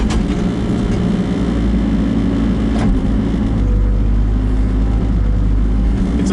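A Kubota KX121-3 mini excavator engine drones steadily and loudly close by while grading and separating stones, a continuous low diesel rumble with faint hydraulic strain and a few light clanks.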